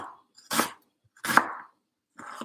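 Knife chopping carrots into thin matchstick fries on a cutting board, three separate bursts of sharp cutting, close and clear with short quiet gaps between.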